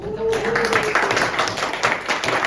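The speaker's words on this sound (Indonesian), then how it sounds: "Ya, tepuk tangan dulu." Students in an economics classroom clap their hands together, a lively patter of many claps starting after a brief spoken word and continuing steadily at moderate loudness.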